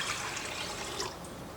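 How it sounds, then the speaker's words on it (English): Warm water pours steadily into a mixing bowl for pizza dough, a soft, even splashing trickle, quiet and close. "first we're going to add in our warm water"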